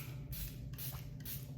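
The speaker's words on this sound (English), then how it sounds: "I am going to put the Charlotte Tilbury Flawless Setting Spray on." Charlotte Tilbury Flawless Setting Spray mists out in three short, soft hissing bursts, close and evenly spaced.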